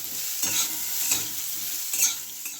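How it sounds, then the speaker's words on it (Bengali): Green mango pieces frying in a pan for a sour lentil dal, with a steady sizzle and a few scraping stirs of a spoon, close up and without talk. "ভাজা হয়ে গেছে আমগুলো কিন্তু ভালো করে ভাজতে হবে"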